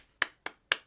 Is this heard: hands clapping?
yes